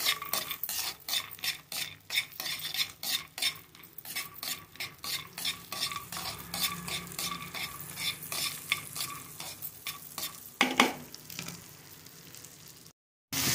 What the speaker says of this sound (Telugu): జీడిపప్పుల్లో కొంచెం వెన్న వేసాను, వేయించుకున్నాము.